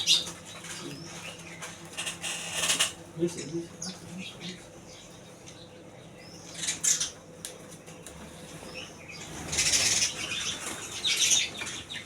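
House sparrows at nest boxes in a village pan shop in Ambarama, Porbandar, chirp and tweet with short bursts of flapping wings. Activity comes in uneven clusters against a quiet background.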